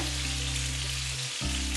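Fish frying in a pan, a loud continuous close sizzle of hot oil with a low steady hum running underneath.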